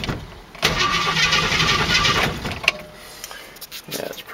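A 1968 AMX car engine cranks and catches, a loud, close rumble that surges for a couple of seconds and then settles and fades, with a sharp click near the end.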